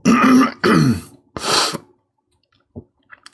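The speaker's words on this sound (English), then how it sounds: "I will try to edit these coughs and sniffles out." A person clears their throat twice in quick harsh bursts, then gives a short cough, followed by a pause and a few faint clicks, close and loud.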